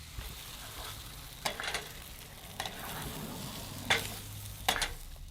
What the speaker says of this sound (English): simple eggs with veggies, because you can do it all in this one pan that we have